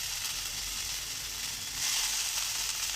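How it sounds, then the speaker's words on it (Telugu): Mint, green chillies and onions fry in a pan with a steady, close hissing sizzle that holds throughout and swells slightly louder near the end, with no talk. "ఇందులోనే వేసి కొద్దిగా కచ్చపక్కలా ఇలా వేయించుకోవాలి"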